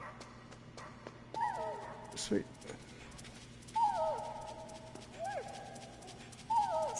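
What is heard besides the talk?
dogs barking and whimpering in the video game Metal Gear Solid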